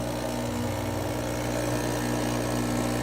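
An Expobar espresso machine running during a test, a loud, steady mechanical hum with a strong low drone and fixed tonal lines, constant and close throughout with no voices.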